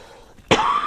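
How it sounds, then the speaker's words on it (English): A single sharp cough bursts out loud and close after a quiet stretch, with a short ringing tail trailing off. "I was trying so hard not to cough"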